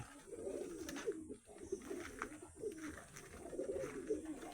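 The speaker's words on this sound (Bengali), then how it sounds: "পায়রাগুলোকে দেখায় খাবার দেওয়া কমপ্লিট হয়ে গেছে" Pigeons in a cage after feeding, cooing softly in repeated low rolling calls, several birds overlapping at close range in a quiet setting.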